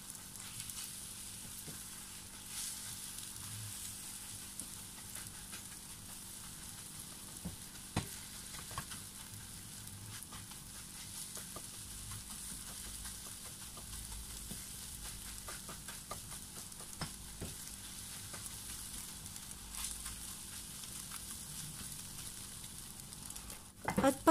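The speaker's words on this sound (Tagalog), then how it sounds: "saka po natin pipituhin muna ang ating itlog. I-scramble ang pagluto po natin dito" Eggs scrambled in cooking oil in a pan sizzle steadily throughout, with occasional soft taps and scrapes of stirring close by and no voices.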